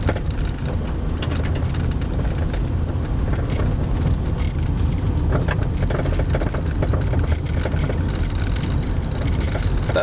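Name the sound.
suspension noise from 1997 Avalon on gravel road, wheel bearing or CV axle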